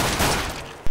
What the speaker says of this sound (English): It's just too much gunfire, bro.